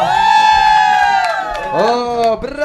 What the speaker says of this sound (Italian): Un urlo per la sposa!